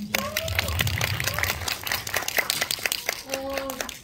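Audience claps for an actor at a film event, with scattered hand claps under ongoing conversation and a few crinkling handling noises.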